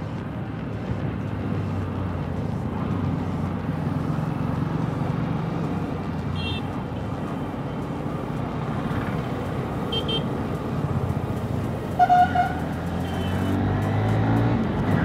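A Honda SP125 motorcycle engine accelerates in third gear to overtake, a steady loud droning hum heard from the rider's position, with a brief horn-like beep and faint traffic sounds near the end.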